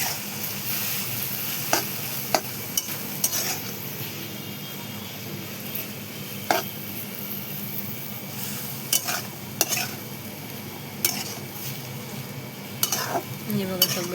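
Ambadi (sorrel) greens are stirred in a frying pan over a constant close sizzle, with occasional sharp utensil scrapes and clinks against the metal.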